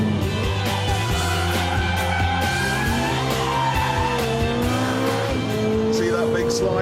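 A Ferrari 430 sliding in race mode, engine revving with repeated tire squeals as the car drifts, loud and close, with someone talking over it.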